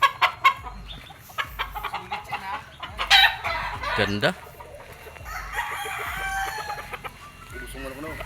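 Gamefowl roosters at a game farm crow and cluck in scattered bursts, some near and some farther off, with brief speech among them.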